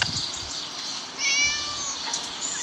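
A cat meows in the video game Scary Teacher 3D, a drawn-out, wavering cry rising midway through over a faint steady game background, close and clear with nobody speaking.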